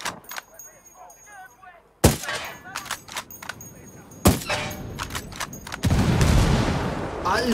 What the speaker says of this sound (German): hab den Gastank explodieren lassen